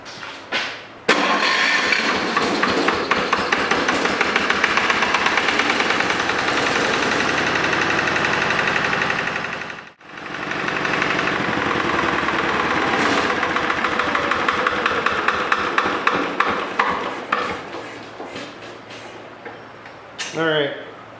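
A Lister engine driving an air compressor cranks over and fires, then runs with a loud, steady rapid chugging. The chugging cuts out briefly around the midpoint, resumes, and then dies away near the end.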